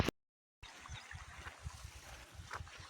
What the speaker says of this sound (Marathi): इथं पाणी चालू आहे.